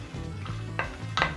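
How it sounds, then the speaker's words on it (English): Vegetables tumble into a pot of boiling water on a home stove, giving a few brief splashing, clattering bursts over a low steady bubbling simmer. "we're just gonna pour our veggies into here"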